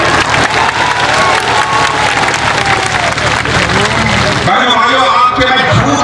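A large outdoor political rally crowd in Dakshin Dinajpur claps loudly and continuously, with some cheering, and a voice carries over the applause near the end.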